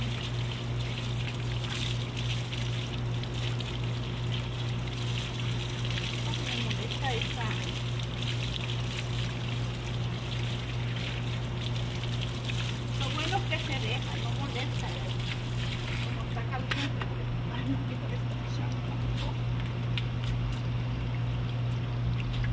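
Warm water poured and trickling over a dog during an outdoor bath in strong sun, a steady wash of splashing and dribbling under a constant low hum, with people talking nearby.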